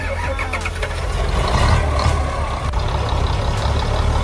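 A logging truck's diesel engine rumbles close by as it stops and repositions on a tight turn, a steady low idle with a slight swell in revving midway and faint clanks.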